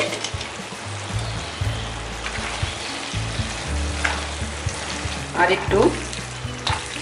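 Kochu shak with moong dal stirred in a pan, a steady sizzle with scraping strokes from the spoon and brief speech over it.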